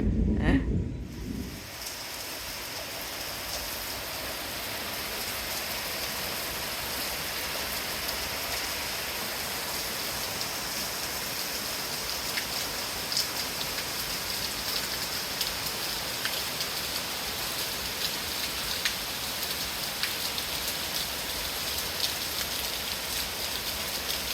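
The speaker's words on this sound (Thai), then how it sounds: "โอ้ยเสียงฟ้าคำรามเพื่อนๆค่ะ" Steady rain falls outside a home during a thunderstorm, a dense even hiss running without a break, with a brief louder burst at the start that may be distant thunder.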